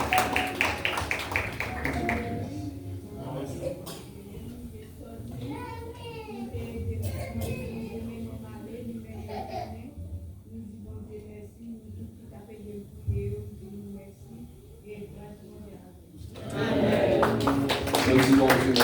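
A church congregation claps during a worship service, with bursts of clapping at the start and again near the end, mixed with voices and singing in between.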